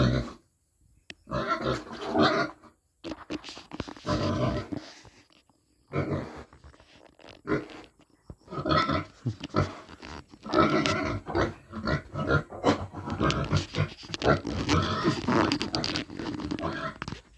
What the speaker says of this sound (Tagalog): So yan po yung aking baboy.